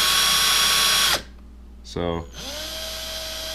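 A small drill spins a bent engine valve from a Camaro, a high steady whir that cuts off abruptly, followed by a short rattling burst, then the motor briefly restarts more quietly; a voice speaks one word.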